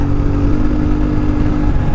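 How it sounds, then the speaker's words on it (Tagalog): A CFmoto 450MT motorcycle engine accelerates on a ride through Baguio City at night, giving a loud, steady drone with a low rumble that holds throughout without pause. "Dahil lang ang ganda ng makina nitong motor na to."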